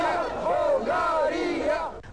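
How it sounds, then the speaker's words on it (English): An angry crowd in Bulgaria in 1989 shouts at leader Petar Mladenov, a loud massed roar of many voices rising and falling in unison, chant-like and close, lasting a couple of seconds before it cuts off. "He was faced with this angry crowd, which was basically telling him to go away."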